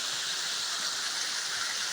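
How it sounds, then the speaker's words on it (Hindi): Mountain waterfall beside a newly built dirt road near Rahal village, a steady, close hiss of falling water with no breaks and no voices. "पहाड़ों में आपको इस तरह से वाटरफॉल"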